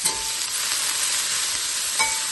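Burgers sizzle in a hot pan, a steady hiss with a couple of sharper pops and spits, close and without voices.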